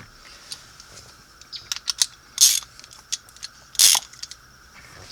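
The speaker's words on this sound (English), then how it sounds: "I'm going to stick my head in front of the camera to get the socket and ratchet." A Harbor Freight socket ratchet wrench working on a 1999 Jeep WJ: close, quiet clicks in short irregular bursts, with two louder rasping ratchet runs.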